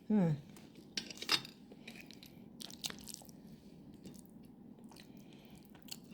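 Someone eats breakfast, with a loud clatter of a utensil at the start, then scattered clinks of cutlery on a plate and soft chewing and crunching, close and fairly quiet, with faint background sounds.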